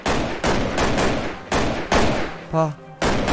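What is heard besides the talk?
gunshots in a zombie apocalypse video game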